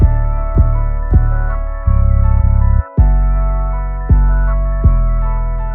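Deep, booming 808 bass notes hit one after another, clean and sustained with long tails, a short held pair in the middle, no voice.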